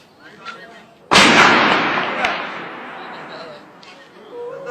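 A single loud gunshot cracks out sharply, followed by a long rolling echo that slowly fades amid faint background noise, set among soldiers at a presidential guard camp in Yemen.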